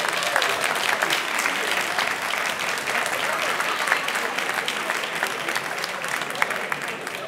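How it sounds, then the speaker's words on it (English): Sustained applause from a sizable crowd at a city neighborhood awards ceremony fills the clip, an even, crackling wash of clapping with a few scattered voices beneath. "Round of applause for the city staff to put today on."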